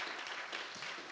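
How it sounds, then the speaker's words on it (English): A church congregation applauds the worship team in a steady, even wash of clapping that is soft and somewhat distant and lasts the whole moment, with no voices over it. "You can applaud them."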